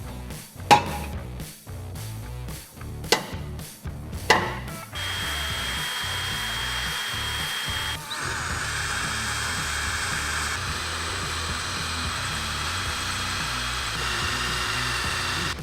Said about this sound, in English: we're gonna start drilling some holes.